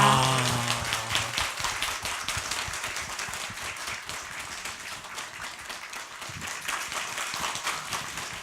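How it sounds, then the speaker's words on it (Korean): A Korean Buddhist broadcasting studio audience gives a big round of applause welcoming a guest, the dense clapping loud at first and then easing slightly while continuing steadily, with a short musical tone at the very start. "큰 박수 부탁드립니다"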